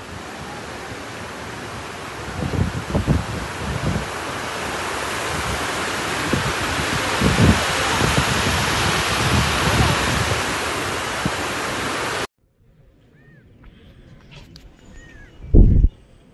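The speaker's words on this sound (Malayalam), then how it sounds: "വെള്ളം അത്രയും ഫോഴ്സിലാണ് കേട്ടോ പോണത്. മാത്രല്ല അതിൻ്റെ മുകളിൽ നല്ല കാറ്റടിക്കുന്നുണ്ടായിരുന്നു കേട്ടോ." Strong wind and forcefully rushing water at Kanjirapuzha dam make a loud, steady broadband roar for about twelve seconds, then it cuts abruptly to near quiet with one brief thump near the end.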